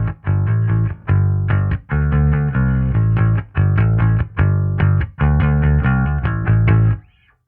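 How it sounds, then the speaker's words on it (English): A round wound P bass played clean as a DI tone into a Darkglass Anagram, thick sustained notes in repeated phrases, loud and close with no other sound. "Really nice round wound P bass DI tone."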